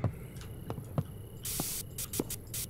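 Cleaning spray from a can in the Internet Cafe Simulator 2 video game, a loud hissing burst lasting about a third of a second followed by several shorter sprays, with light clicks and thumps between them.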